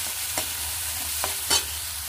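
Veg manchurian stir-frying in a pan sizzles steadily, broken by several sharp scrapes and taps of a spatula stirring the mixture, close and clear with no talk.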